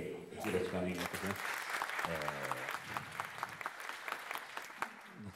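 Audience clapping at the SwingBerry jazz party, steady applause from a crowd lasting several seconds, with a voice speaking over it at the start and claps thinning toward the end.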